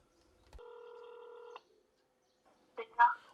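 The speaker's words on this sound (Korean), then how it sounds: "성덕이가 전화를 전혀 안 받는다" A telephone call rings unanswered: one steady electronic ring tone lasts about a second, then a brief voice follows after a pause.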